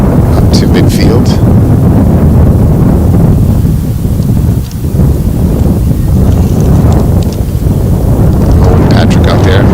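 Strong wind buffets the microphone at an outdoor boys' high school soccer game, a loud continuous low rumble and roar with brief gust dips, covering the whole stretch.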